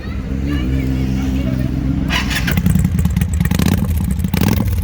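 A motorcycle engine starts partway through, then idles roughly and revs in loud, close bursts with a rattly clatter, after a stretch of steady background noise.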